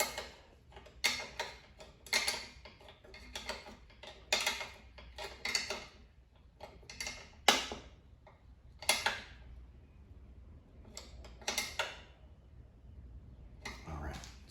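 A wrench tightens a fastener on a Kohler engine fitted to a Toro machine. It makes repeated bursts of quick metallic clicking, close and steady, with short pauses between the strokes.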